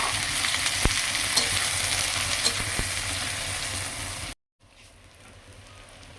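Whole spices frying in hot oil for a tempering, dry red chilli, bay leaf, cardamom, clove and cinnamon, making a dense, steady crackling sizzle up close with a couple of sharp pops, cutting off abruptly before a quieter stretch.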